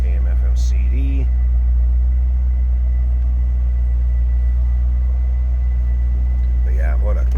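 A 2000 Chevrolet Corvette convertible with stock exhaust idling, a steady deep low rumble held throughout, with faint voices briefly in the background.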